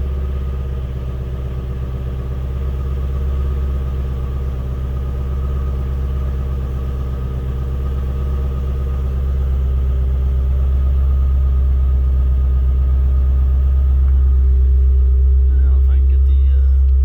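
A 2017 Shelby GT350R idling after a cold start with the muffler in quiet mode, a steady deep low rumble that swells slightly louder toward the end, close by, with some talking over it.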